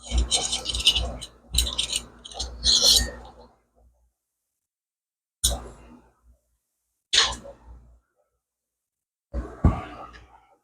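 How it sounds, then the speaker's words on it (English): Aquarium sand being raked and flattened with a small sand rake while aquascaping a tank, heard as a few loud scraping, gritty bursts early on, then sparse short scrapes separated by pauses. "now we're just going to slowly flatten the sand out"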